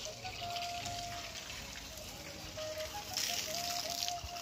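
Water being poured, a faint steady gushing trickle, with some brief background sounds and no talking.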